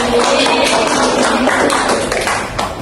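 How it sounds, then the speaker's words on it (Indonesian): Children in a classroom clap their hands together, a dense, lively patter of small claps that fills the room for a few seconds before tapering slightly at the end. "Coba kasih tepuk tangan dulu."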